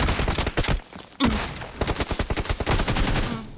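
Gunfire in the PUBG Mobile shooter game, dense bursts of rapid automatic shots cracking loud and close, broken by a brief lull before another long, sustained volley.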